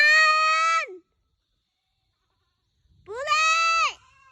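Goats on a farm let out two loud, drawn-out bleats close by, each lasting just under a second, separated by a few seconds of silence.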